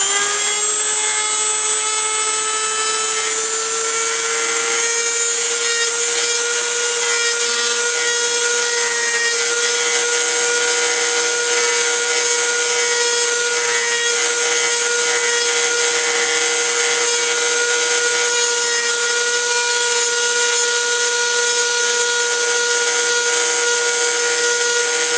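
A power tool bit trims binding along a rosewood guitar fingerboard, holding a loud, steady, high-pitched whine that runs unbroken for the whole stretch with no talking.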